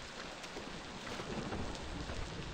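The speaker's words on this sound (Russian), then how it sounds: "А буря-то все надвигается." Heavy rain pours continuously during a thunderstorm in the dinosaur survival game Beasts of Bermuda, a loud, dense wash of downpour with low rumbling thunder underneath, steady throughout.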